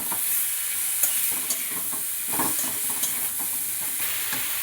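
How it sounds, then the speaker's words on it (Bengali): Potatoes and broccoli sizzle in a pan while a spatula stirs and scrapes in irregular strokes, steady frying hiss underneath, close by. "এবার বকুলি ভাজাটা দিয়ে একসাথে কষিয়ে নেব"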